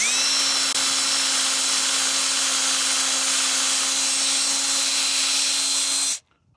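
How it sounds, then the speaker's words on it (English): A power drill reams out screw holes in a shaft for a fishing scope mount, whining steadily and loudly at constant speed for about six seconds before cutting off abruptly. "I'm going to ream them out just a little bit."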